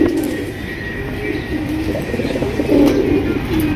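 A pair of crested Rajgolla pigeons coo close by, low throaty repeated calls rolling over a faint background hum, with a brief soft chirp near the end.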